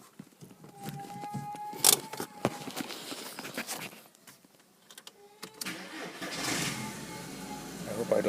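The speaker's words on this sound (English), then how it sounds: "Let me start the car." A Volkswagen car with a central locking fault is started, the starter cranking and the engine catching and revving amid clicks, handling noises and someone talking nearby.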